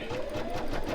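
An embroidery machine stitches out a snowman mug rug with batting in place, a steady close mechanical whir with a faint rising tone running through the second.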